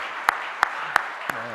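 A church congregation claps together during a service, four crisp, evenly spaced claps in a steady rhythm over a quiet room.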